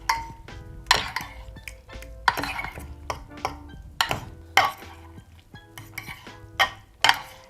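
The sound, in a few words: mixing pasta into the feta sauce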